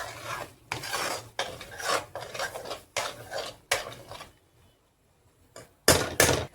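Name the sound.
stirring tomato paste masala cooking in oil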